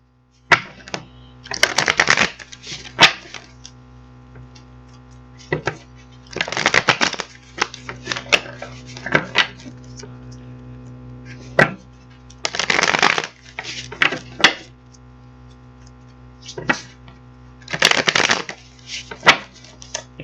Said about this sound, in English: let's get these cards shuffled up